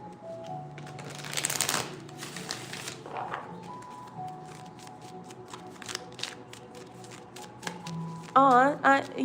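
Tarot cards being shuffled and handled close up, a quick papery riffle followed by light taps and flicks of the cards under someone talking, with a brief louder warbling sound near the end.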